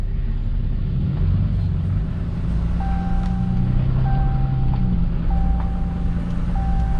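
A 2017 Ram 3500 Cummins diesel pickup fitted with a Banks air intake rumbles steadily and close by at a low pitch, while repeated electronic beeps sound over the engine.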